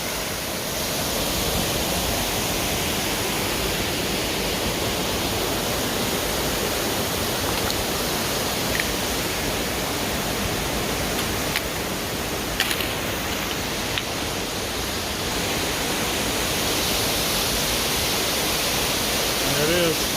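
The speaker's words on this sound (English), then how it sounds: "There it is, Long Creek Falls." Long Creek Falls, a waterfall on the Appalachian Trail in Georgia, gives a steady, dense rushing roar that fills the whole stretch without a break and stays close and loud throughout.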